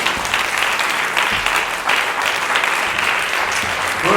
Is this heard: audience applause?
yes